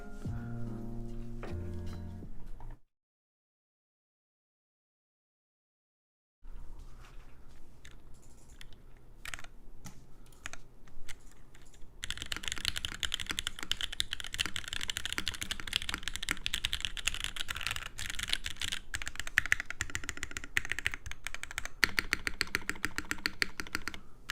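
Typing on a Merisi Sessantacinque 65% mechanical keyboard, with brief opening keystrokes, a silent gap, then a long steady run of fast, close, crisp key clacks that grows denser toward the end.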